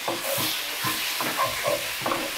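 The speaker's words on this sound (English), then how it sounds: "Just go in with a little bit more of that smoked fleur de sel, the flaky salt, and we'll get that stirred in." Flaky smoked fleur de sel is stirred into a pan of simmering mushroom duxelles for beef Wellington, giving a run of soft, evenly spaced scraping strokes over a low steady sizzle.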